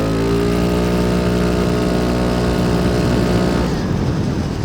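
A Kymco G7 scooter accelerates hard out of a corner on a racetrack, its engine tone climbing steadily as revs build over several seconds, loud and close, with no talking.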